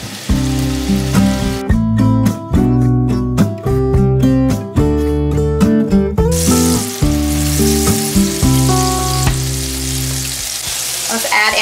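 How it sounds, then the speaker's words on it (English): Olive oil and a couple of pats of butter sizzle in a large skillet, a steady hiss running beneath loud, continuous background music. "Now in this large skillet, I'm gonna add some olive oil. I'm gonna add in a couple of pats of butter."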